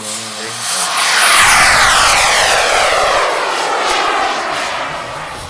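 A model jet aircraft at a 1999 flying display in La Ferté-Alais makes a loud fly-past, its turbine whine rising sharply and sweeping past close by before trailing off as it climbs away.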